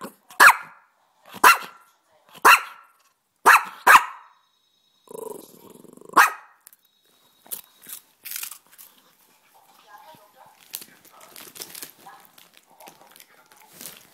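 A dog barks indoors in five sharp, evenly spaced single barks, followed by a short growl and scattered softer noises, crunching and a voice speaking nearby.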